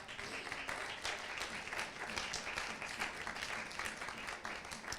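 A church congregation applauds and cheers at a prophetic worship service, steady dense clapping filling the room at moderate volume for the whole stretch, with scattered voices mixed in.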